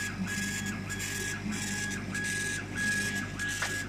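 A laser engraver working on plywood, its 150-watt tube cooled by a chiller, gives a steady mechanical hum and whir with a constant high whine and regular rhythmic modulation as the head moves, continuous and close.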